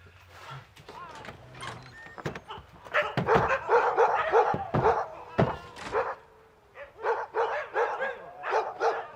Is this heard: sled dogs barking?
yes